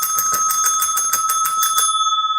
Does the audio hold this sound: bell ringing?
yes